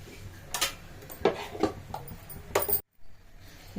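A metal ladle (a perforated spoon) is tapped repeatedly while boondi batter drops into hot oil, giving a series of sharp, bright clinks in an uneven rhythm, then a brief silence and a faint fizzle.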